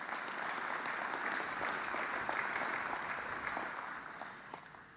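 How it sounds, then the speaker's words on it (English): Audience at an agricultural spray forum session applauding a presenter, a steady, moderately quiet patter of many hands that tapers slightly toward the end, with no talk. "Let's give Andrew a big round of applause"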